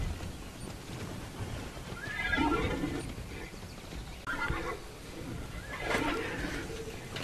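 Horses neigh and whinny in the Immortals Fenyx Rising game world, with two or three bursts of whinnying and a faint clip-clop of hooves against a steady ambient background.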